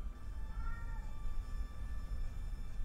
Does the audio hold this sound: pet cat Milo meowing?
yes